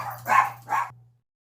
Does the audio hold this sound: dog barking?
yes